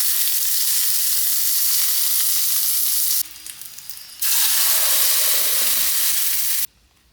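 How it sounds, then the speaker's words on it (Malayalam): Mustard seeds, dried chilies and curry leaves sizzle loudly in hot coconut oil as a tempering for chutney. The sizzle is close and steady, dips briefly partway through, then returns strongly before falling away at the end. "ഇനിയിപ്പോൾ ചട്നിയിൽ വറുത്തിടാണ് വേണ്ടത്."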